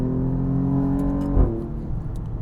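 A 2023 Alfa Romeo Giulia Quadrifoglio on its stock exhaust holds a steady, close engine drone. A quick blip of revs near the middle jumps in loudness before settling back into a lower idle rumble.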